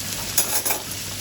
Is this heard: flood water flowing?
no